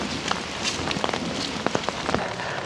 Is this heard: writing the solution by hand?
no